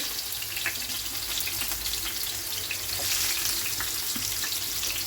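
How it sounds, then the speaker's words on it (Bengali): Bitter gourd pieces, salted and coated with turmeric, fry in hot oil with a steady hiss and crackle that swells slightly partway through. It is close and continuous, with no voices. "তেলও আমার গরম হয়ে গেছে ভেজে নেব উচ্ছেগুলো"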